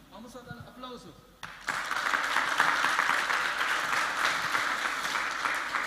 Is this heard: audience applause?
yes